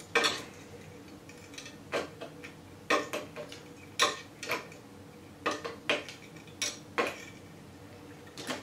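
Wire dubbing brush for pike and musky flies spun on a fly-tying brush spinner, heard as a series of sharp ticking clicks and whirring bursts at irregular intervals, close and fairly quiet, with no talking.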